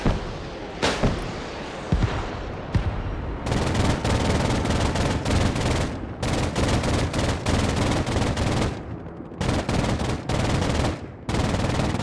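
Anti-aircraft guns of a short-range air defense unit firing in the Broken Arrow strategy game: dense, loud, sustained bursts of rapid automatic fire with sharp reports, broken by brief pauses, continuing throughout.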